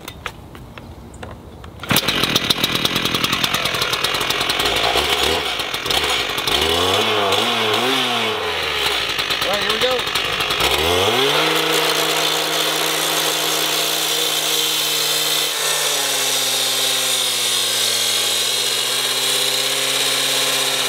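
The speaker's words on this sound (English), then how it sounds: "we're gonna be using the Echo CSG 7410 cutoff saw right here" An Echo CSG 7410 cutoff saw with a 14-inch abrasive blade cuts 1.5-inch steel tube with a 1/16-inch wall. The two-stroke engine fires up, revs and whines loudly, then holds a steady, droning pitch through the cut.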